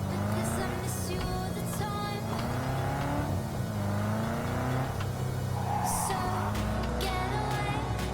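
A Quadra Type 66 car engine in a video game hums steadily throughout, its pitch gliding up and down with throttle changes over a dense layer of game ambience.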